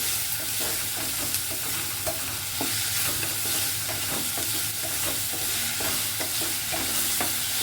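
Onions frying in a pan with a pinch of powdered salt, a steady close sizzle with repeated scraping strokes of a spatula stirring throughout, no voices.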